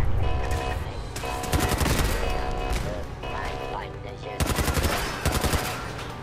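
Rapid bursts of automatic gunfire from a weapon in Fallout 4, loud and close, with dense volleys separated by brief pauses and a voice talking over part of it.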